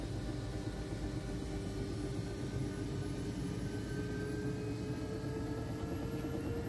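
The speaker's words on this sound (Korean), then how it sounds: "이제 출발하려고 헬기가 RPM을 좀 더 올리고 있습니다" A tour helicopter over the Canadian Rockies builds rotor speed before takeoff, making a steady, dense engine and rotor drone heard from close by with a constant whine and no talking.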